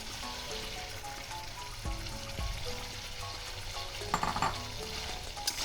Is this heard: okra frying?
yes